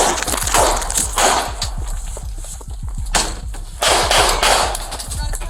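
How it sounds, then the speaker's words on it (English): Gunfire breaks out as Oklahoma City police arrest a wanted fugitive: rapid, loud cracks come in dense bursts, harsh and close, with short pauses between the volleys. "Shots fired!"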